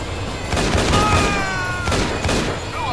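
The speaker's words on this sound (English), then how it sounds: "It just seems to fire my pistol." Rapid gunfire in the video game Infernal, a dense, loud volley of shots running continuously with brief swells and dips, up close and without pause.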